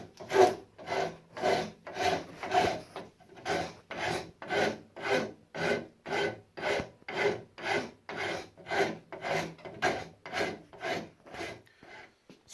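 Hand filing a copper pipe fitting on an ash walking stick, worked with chisels and files: steady rhythmic rasping strokes, about twenty back-and-forth passes at an even pace, close and fairly loud with no talking.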